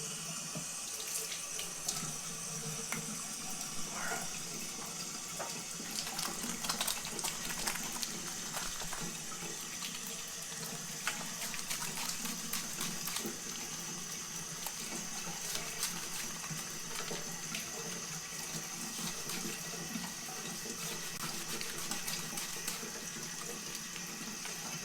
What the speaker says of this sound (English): So I'm just gonna go ahead now and wash my face with that product.